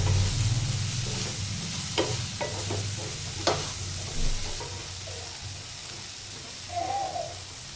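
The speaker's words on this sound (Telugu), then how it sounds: "ఇలా మళ్ళీ ఒకసారి కలుపుకోవాలి ఫ్రెండ్స్." Sliced okra (bendakaya) fries in a little oil in a pan and is stirred, a steady close sizzle broken by a few sharp spoon scrapes.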